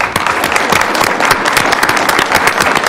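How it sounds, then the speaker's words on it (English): A room full of people at a Douglas County commissioners' business meeting breaks into a loud round of applause, dense continuous clapping filling the whole stretch with no talk over it. "I hope you'll all join me in a huge round of applause for Tiny Zappi"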